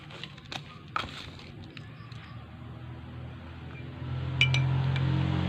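Faint clinks of a spoon against laboratory glassware while stirring salt into a solution, a few scattered taps over a low steady hum, with a brief brighter clink near the end.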